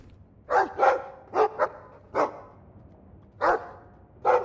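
A dog in Dragon Age 2 gives a series of about seven short, clear barks in irregular pairs and singles, close and prominent with a quiet background.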